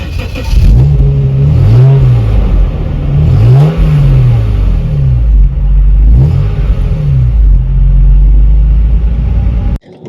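Jaguar XJS engine heard from behind the car, a loud, deep exhaust rumble that idles and then revs up and down three times in rising and falling sweeps before cutting off abruptly at the end.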